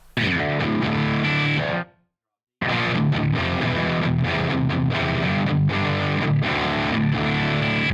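An electric guitar plays through a distortion pedal with a transpose knob, giving thick, saturated sustained chords that cut out for a brief silence and then resume loud and dense.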